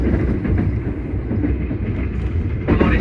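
The Azusa No. 49 limited express bound for Matsumoto pulls out of Hachioji station, heard from on board in the Green Car as a steady low rumble of wheels and carriage noise, with a brief louder clatter near the end.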